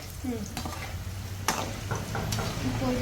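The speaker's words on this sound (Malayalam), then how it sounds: "നമുക്ക് പഴം പൊരിക്കുന്നുണ്ട്" Banana fritters sizzle steadily in hot oil, with a few sharp scraping knocks from a utensil stirring in the pan.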